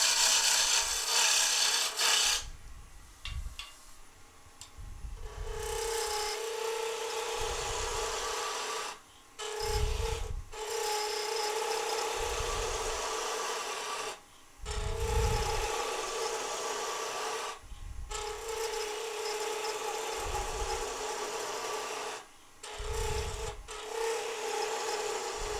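Wood spindle spinning on a lathe while a skew chisel cuts it, a steady rasping scrape broken by short pauses into about eight repeated passes, close and loud with no talk.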